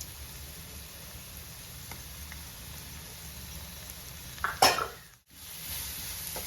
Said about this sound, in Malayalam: അരപ്പ് മാത്രമാണ് നമ്മൾ ഇതിനകത്ത് മൂപ്പിക്കുന്നത്